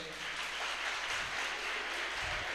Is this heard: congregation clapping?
yes